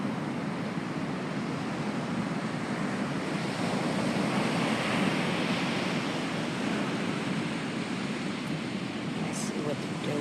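Ocean surf breaking steadily at First Beach near the mouth of a river by James Island, a continuous broad wash of crashing waves with some wind rumble across the whole stretch.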